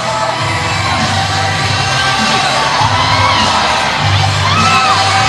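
Malaysian netball fans scream and cheer from a packed arena crowd at a SEA Games netball final against Singapore, a steady wall of shouting and whoops running throughout, loud but diffuse in the background.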